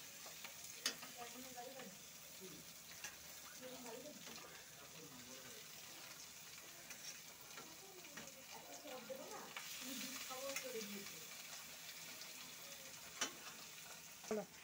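Snake gourd and fish roe fry in a pan in a faint, steady sizzle, with occasional soft stirring scrapes and clinks and quiet talk now and then underneath.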